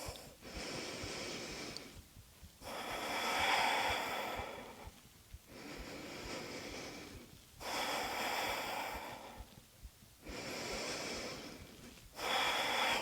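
Slow, deep breaths held in a yoga pose, audible airy inhales and exhales alternating in a steady rhythm of about six long breaths, close and fairly soft, with no talk.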